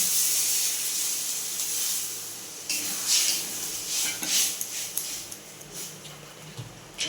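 Water poured into a hot pan of chutney, bursting into a loud, close hiss of steam that surges and fades in uneven waves, with a few faint clinks; nobody speaks.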